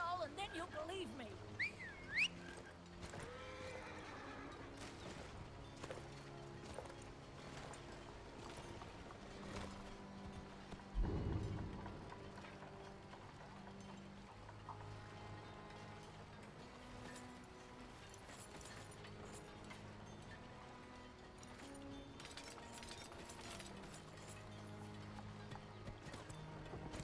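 A horse in the Skyrim video game clops its hooves and gives an occasional neigh, quiet beneath a steady game soundscape, with a voice talking over it.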